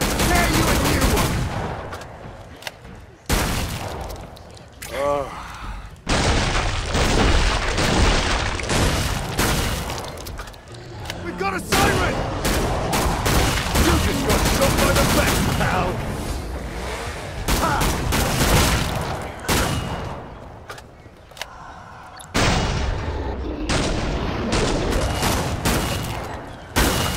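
Rapid gunfire in the video game Killing Floor 2, loud bursts of shots and booming impacts packed densely across the whole stretch, broken only by brief gaps, with shattering and explosive hits mixed in.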